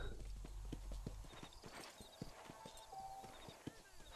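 In Red Dead Redemption, a horse trots with steady, evenly spaced hoof clip-clops close by. Faint game ambience and brief voices sit underneath the hoofbeats.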